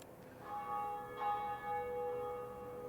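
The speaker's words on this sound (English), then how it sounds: "the church bells" Church bells in the video game Rail Route ring out in a few resonant, sustained strikes, their tones overlapping and fading, fairly quiet with no talking.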